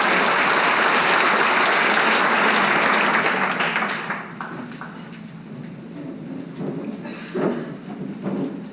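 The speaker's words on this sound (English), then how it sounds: "Let's give them a round of applause, guys" A crowd at a live awards event bursts into loud, dense applause that fades after a few seconds into scattered claps and murmuring, with a voice briefly coming through near the end.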